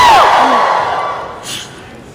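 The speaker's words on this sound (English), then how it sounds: "wave your hands to get the crowd to woo" A convention crowd at an anime event lets out a loud, sustained collective "woo" and cheer that swells at once and then fades away over about two seconds.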